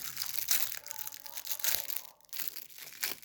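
A carton of cheese-flavored snack gifts is torn open at close range, producing a run of crinkling, crumpling plastic and crunching packaging sounds in uneven bursts.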